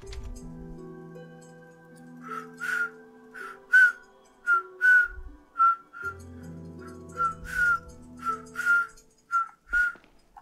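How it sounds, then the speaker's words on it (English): A person whistles a short tune during a Resident Evil 4 playthrough, a dozen or so clear, piercing notes in an uneven rhythm, close and alone over a low sustained game tone. "Wish I could whistle better."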